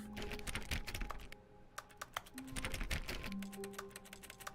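Fast keyboard clicking from a Stanley Parable-style video game plays in steady rapid bursts for several seconds, close and moderately loud, mixed with faint tonal game sounds and no talking.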